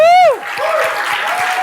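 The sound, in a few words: audience applause at a keynote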